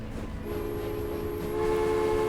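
A train rolls along in the rail-building game Transport Fever, a steady low rumble with a sustained tonal hum and a high whine on top, growing slightly louder toward the end.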